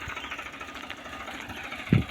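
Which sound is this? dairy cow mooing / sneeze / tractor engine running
tractor engine running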